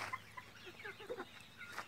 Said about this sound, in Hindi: ये मेरा बड़ा मुर्गा है जो मैंने रखा हुआ है